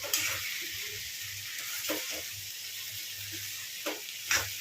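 Okra frying in a pan, a steady close sizzle and hiss with a few soft stirring scrapes and clinks, no talking.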